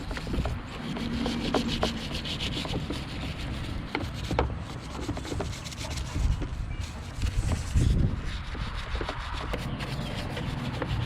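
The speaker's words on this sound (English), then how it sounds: "Then once it soaks in for a minute, I'll take and brush it." Stiff brush scrubbing grime and grease off the chains of a Hobie kayak Mirage Drive, a steady rubbing scrape with irregular strokes, close and fairly loud throughout.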